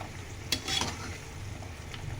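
Eggs frying in a pan, a quiet steady sizzle with a couple of brief scraping stirs, heard close and alone.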